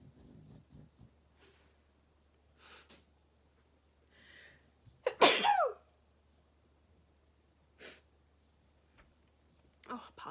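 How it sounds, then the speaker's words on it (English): A single sharp human sneeze bursts out close by midway through, in a quiet room during a knitting and crochet chat, surrounded by faint rustles and soft clicks. "I'm gonna sneeze, hold on."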